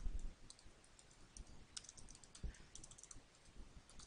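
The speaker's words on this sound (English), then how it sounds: "you type in here" Rapid, uneven clicking of someone typing on a computer keyboard, soft and close, with a few louder key strikes scattered through the steady patter.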